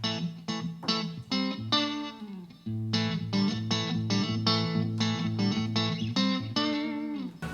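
An electric guitar plays in a clean tone through a tuner, delay pedal and DI box, into a Vox AC30 amp, on a live band rig. Rhythmic strummed chords ring with delay trails, loud and without voices.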